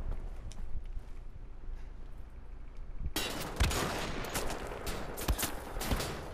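Gunfire from the video game Wolfenstein: The Old Blood, with a low rumble that gives way to a dense burst of rapid, crackling shots and impacts.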